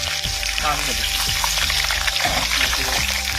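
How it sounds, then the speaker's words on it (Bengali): Potatoes fry in hot oil in a pan before going into a fish curry, with a continuous bubbling sizzle and a person talking over it. "আলুটা ভালো করে ভেজে নেবো"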